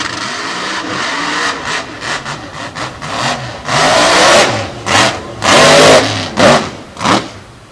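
A Mopar-powered drag racing car makes a loud pass at Sanford, its engine roaring in repeated surging bursts that build and swell over several seconds, heard alone without talk.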